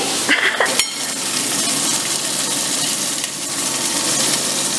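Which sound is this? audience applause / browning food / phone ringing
browning food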